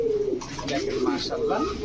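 A Pakistani Babra pigeon coos in a low, rolling, continuous murmur close by, with a voice talking over it throughout.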